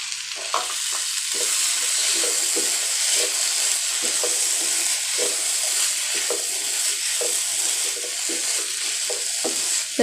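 Corn and fried paneer in masala sizzle steadily in a pan, with a spoon scraping and stirring in repeated strokes close up, no talking.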